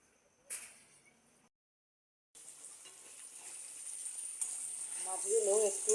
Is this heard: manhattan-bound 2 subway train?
no